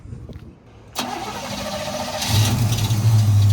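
A 1979 Chevrolet Camaro barn find fires up on an electric fuel pump: quiet ticking, then a sudden crank and catch at about one second, settling into a loud, rough idle that grows deeper and louder.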